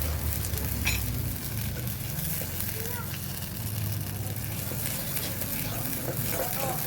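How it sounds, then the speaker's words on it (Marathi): Spice masala fries in oil in a pot over a wood-fired stove as salt goes in, a steady close sizzle with some stirring, while a person talks over it. "आपण आता तेल तर मसाला परतून घेतला आहे यात थोडंसं पुरतं मी मीठ घालत आहे"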